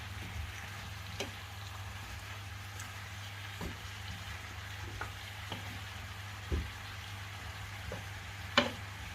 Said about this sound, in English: you just want to saute the potatoes as well as the veg for a bit